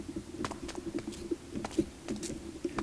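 Pigeons coo in the video game Minecraft, a soft repeating low warble of short coos in an uneven rhythm, moderately faint and steady with no talking.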